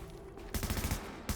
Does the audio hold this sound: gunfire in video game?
yes